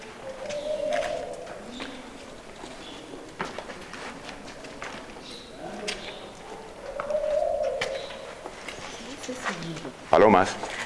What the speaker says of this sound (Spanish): Palomas.